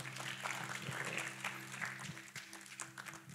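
At a church youth service, the congregation applauds the worship team with steady, moderately faint clapping that fills the room, a low hum running beneath it.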